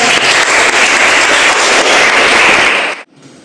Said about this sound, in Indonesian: beri aplaus, jawabannya benar